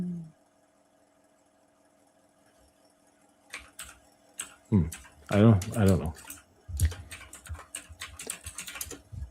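Typing on a computer keyboard, a scatter of close, light key clicks in irregular bursts after a quiet start, with someone speaking briefly over the typing.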